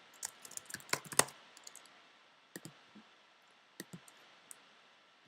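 Someone types a keyword on a computer keyboard at close range, with scattered quiet key clicks in small clusters and pauses between them and no talk.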